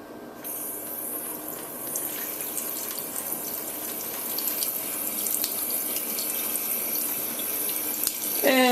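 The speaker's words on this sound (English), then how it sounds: "water's coming out of all different places" Water running from a tap into a Clearly Filtered water pitcher and spilling out at several points, a steady close hiss and splash that builds slightly and ends in a sharp clatter.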